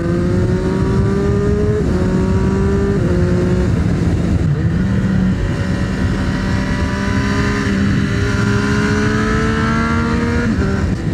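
A yellow 2023 Triumph Street Triple 765 RS motorcycle rides through Corsican mountains, its engine loud and continuous with rising and falling revs and gear changes, with exhaust pops and crackles under the steady roar.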